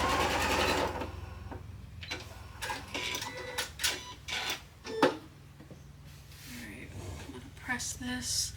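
Sewing machine stitching together a strip of quilt sashing, its fast mechanical whir running in bursts with clicks and short pauses between runs, close and fairly loud.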